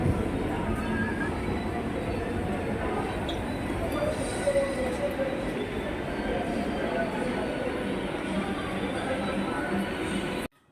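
A Kolkata metro station at midday, with a steady, loud rumble of a train filling the platform that cuts off abruptly at the end.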